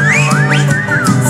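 A loud, close whistle in a song slides up and down in quick melodic swoops, imitating prairie dogs, over steady music.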